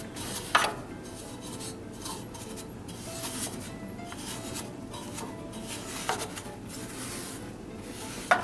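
A rake scrapes and rubs steadily across the heat exchanger tubes of a Hearthstone stove, a continuous close gritty scraping broken by a few sharper metallic knocks.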